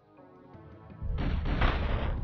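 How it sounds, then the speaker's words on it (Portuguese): Gunfire in the Nintendo 64 game Turok: Dinosaur Hunter, a rumbling shot that swells into a loud, dense burst after a quieter lead-in. "O cara, alguém atirou em mim ainda."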